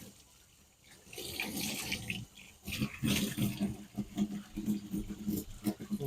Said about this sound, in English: Get these a little rinse off.